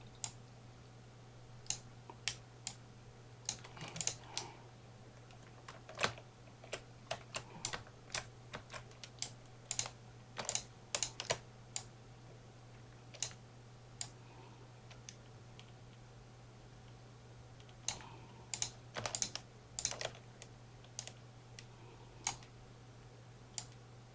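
Computer keyboard keys tapped repeatedly for copy and paste shortcuts, irregular bursts of crisp nearby clicks separated by short gaps, with a faint constant hum underneath.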